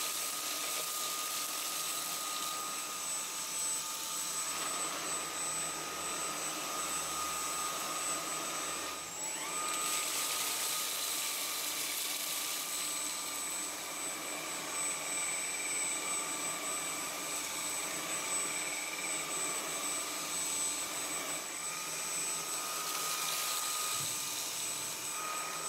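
Dyson Cyclone V10 cordless vacuum cleaner running continuously, a loud high-pitched motor whine with airy suction hiss, with slight changes in tone as it moves over surfaces.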